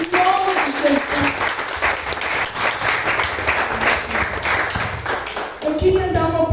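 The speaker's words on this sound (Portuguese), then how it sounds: "Aplauda o Senhor, amados." A church congregation applauds steadily at an evening worship service during a spiritual-warfare campaign, dense clapping filling the room throughout, with voices rising above it near the end.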